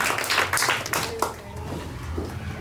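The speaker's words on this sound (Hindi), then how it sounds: "आइए हम अपने इस बहन भाइयों के लिए जोरदार ताली बजाएंगे।" A church congregation at a Christmas Eve service claps together, a burst of applause up front that thins out and fades, with faint voices and room murmur underneath.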